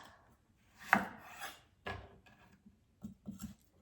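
A knife slices through a classic orange carrot on a cutting board, giving a few crisp, separate chopping strokes with short pauses between them, close and fairly quiet.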